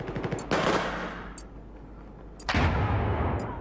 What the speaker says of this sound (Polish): Ktoś tam strzelał.